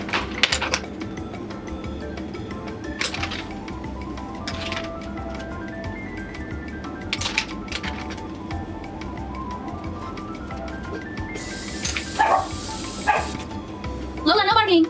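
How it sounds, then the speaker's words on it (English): A small dog named Lola lets out a few sharp barks and yelps, close by, in a home where makeup brushes are being washed, with soft tapping and handling noises between the barks. "no barking!"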